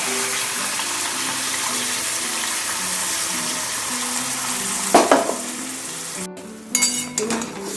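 Chicken frying with salt and ground spice paste in a pan for biryani: a steady close sizzle with a few stirring scrapes and clatters near the end.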